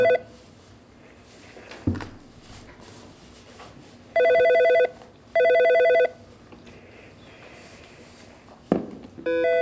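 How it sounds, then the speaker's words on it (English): An office telephone rings in a council meeting held over a call, two steady electronic ring bursts of about a second each separated by a short gap, heard over faint background noise with occasional clicks and thumps. "I keep hearing your phone ringing there."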